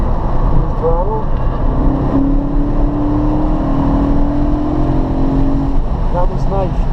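Race car lapping VIR under throttle, a steady loud engine drone from inside the cockpit with a rising whine, while people talk over it.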